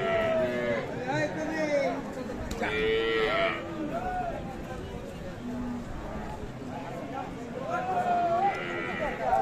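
Sahiwal cows and calves at the Aftabganj cattle market in Dinajpur, with several loud, drawn-out moos rising over constant nearby chatter and someone talking in the foreground.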